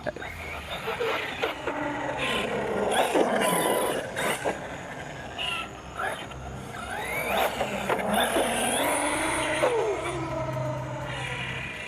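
A Team Corally Jambo XP 6S RC car drives at night, its electric motor whining up and down in short throttle bursts while people talk nearby.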